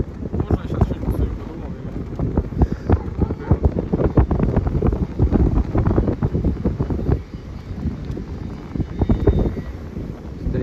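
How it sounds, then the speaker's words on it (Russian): Strong wind roars and buffets the microphone outdoors in a steady, loud rush with gusty surges throughout, and faint voices may sit underneath. "Смотри, ветер сильный"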